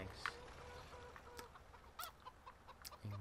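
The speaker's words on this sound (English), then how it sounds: "Hello, chickens! Have you laid me any eggs?" Chickens clucking in the farming game Farming Simulator 2015: a few short clucks and squawks scattered over a quiet farmyard background, fairly soft and without talk.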